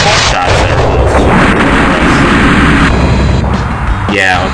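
Artillery shells striking a bridge in the flight-combat video game Fighters Anthology, a loud, continuous roar of blasts and booms with no pause, ending in a sweeping whoosh.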